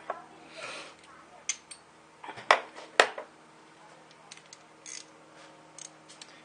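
A worm clamp is worked off the lower radiator hose of a 2001 Dodge Dakota 4.7L, giving scattered small metallic clicks and scrapes, two sharper snaps near the middle, in a quiet setting.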